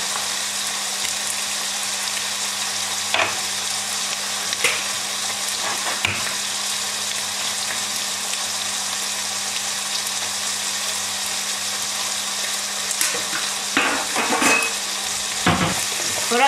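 Eggs and other ingredients fry together in one pan, giving a steady broadband sizzle throughout with a few brief clinks and stirring scrapes near the end.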